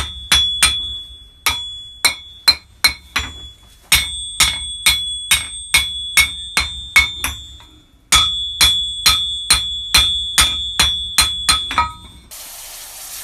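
A small hammer strikes metal at a blacksmith's forge in quick, ringing taps, about twenty sharp blows in three bursts, each with a bright metallic ring, loud and close.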